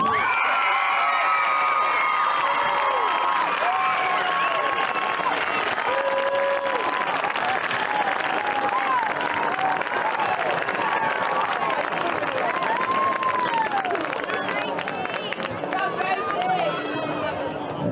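A stadium crowd at a high school football game cheers and applauds for the newly crowned Morgan County Sorghum Queen, sustained clapping and whoops with a voice speaking over the noise throughout.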